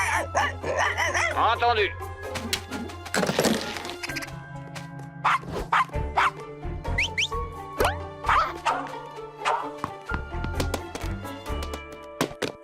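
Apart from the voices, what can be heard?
dog barking in cartoon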